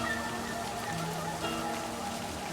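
Steady rain falls in the LIVBER video game, a constant hiss of drops with faint tonal music lines running underneath, even and unbroken throughout.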